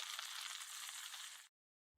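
Tacos sizzle in a pan as a steady, hissy frying sound for about a second and a half, then cut off abruptly, followed by a short thump.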